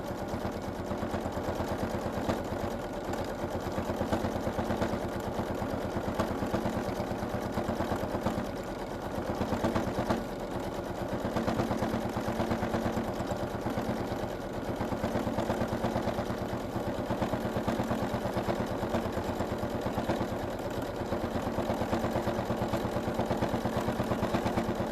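Sewing machine stitching steadily during free motion quilting, a continuous mechanical whir with a fast, even needle rhythm that runs unbroken for the whole stretch, with a few brief slowdowns.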